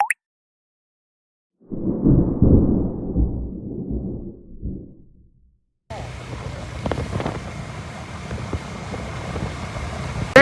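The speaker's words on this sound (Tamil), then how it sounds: "இந்த ரோட பாத்தீங்கன்னா கடல் காத்து அடிச்சிட்டு இருக்குங்க" Strong sea wind blasts across a coastal road on a motorcycle ride in heavy rain, a loud rough roar that drops out briefly and then returns as steady buffeting.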